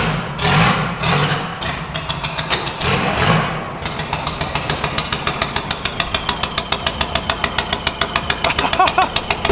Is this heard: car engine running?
yes